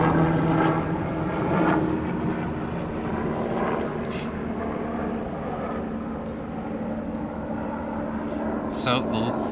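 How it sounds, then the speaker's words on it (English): A helicopter passes overhead in an outdoor setting, a steady low rotor drone rumbling throughout at moderate distance, with some faint background activity. "I have a helicopter passing over by,"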